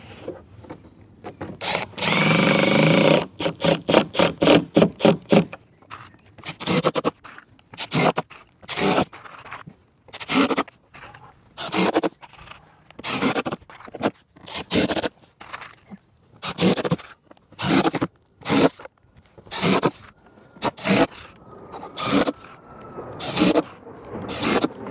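Power driver sinking screws through stacked wooden wall plate sheets: one long whirring run, then a repeated pattern of short, loud buzzing bursts with brief pauses between them.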